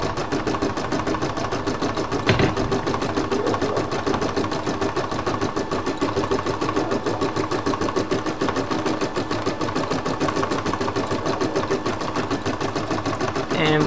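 An embroidery machine stitches a design onto a hooped towel, its needle running in a fast, steady mechanical chatter that keeps going throughout, close and continuous.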